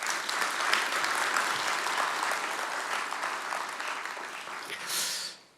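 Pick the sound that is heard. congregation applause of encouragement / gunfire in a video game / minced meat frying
congregation applause of encouragement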